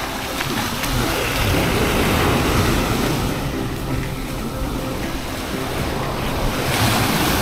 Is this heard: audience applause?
no